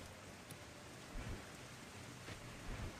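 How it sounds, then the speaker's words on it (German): Rain ambience in an old-school MMO video game: steady, hissing rainfall with occasional low rumbles, quiet and even throughout with no voices. "Auch wenn der Regen noch ziemlich laut ist."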